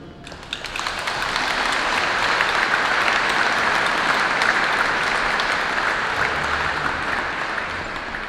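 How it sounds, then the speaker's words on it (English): Sustained applause from a large crowd at a school batch golden anniversary celebration, building quickly at the start and then holding steady and loud throughout. "Please give a huge round of applause to our honorees."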